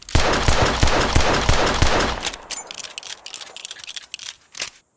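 A double-action revolver shot from the Red Dead Redemption 2 weapon set: a loud, dense crackling burst lasting about two seconds, then a decaying tail with a few scattered clicks and pops, and no speech.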